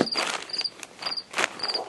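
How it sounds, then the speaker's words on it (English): A noisy cricket chirps nearby in short, shrill bursts, four evenly spaced trills in two seconds, with soft rustling in between. "that cricket is noisy"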